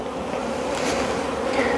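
Honey bees drone steadily at a hive while a beekeeper makes a swarm split to leave in place, a dense continuous buzzing close by with no voices.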